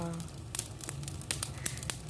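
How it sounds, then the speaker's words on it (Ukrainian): An outdoor fire crackles with sharp, irregular pops and snaps over a low background rumble, with a faint voice murmuring at the start. "Знову, знову вогонь мама робить."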